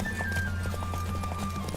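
In a horse race in The Witcher 3, a gray mare gallops with rapid, regular hoofbeats close up over a steady low rumble.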